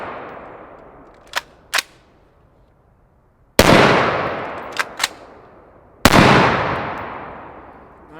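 Unsuppressed 5.56 rifle shots from an LMT ION K with a 10.5-inch barrel: two loud, sharp blasts several seconds apart, each with a long ringing echo tail, plus a few lighter metallic clicks.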